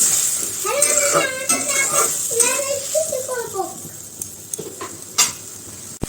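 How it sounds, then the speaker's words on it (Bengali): Masala paste with tomato fries in oil in a pan, a soft sizzle with occasional spoon scrapes and clinks running under a person talking and a voice. "এখানে যে মশলা কষানো মোটামুটি হয়ে গেছে দেখতেই পারতেছেন তেল ভেসে উঠছে"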